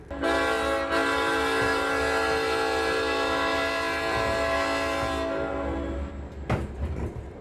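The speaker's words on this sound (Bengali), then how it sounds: "সুমিতবাবু বারবার হর্ন দিতে থাকলেন" A loud, sustained train horn blares steadily for about five seconds, then cuts off, leaving rumbling rail noise and a few brief clanks.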